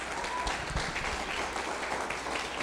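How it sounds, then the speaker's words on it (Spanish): A congregation at a church gathering gives steady, continuous applause, many hands clapping evenly and fairly loud throughout. "¿Le puede dar un fuerte aplauso a Dios?"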